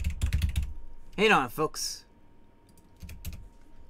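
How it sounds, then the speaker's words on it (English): Rapid keystrokes clatter on a computer keyboard in a quick burst, loud and close, followed by scattered lighter taps, with someone speaking briefly over the start. "I type like a straight out Sonic. That's fast typing."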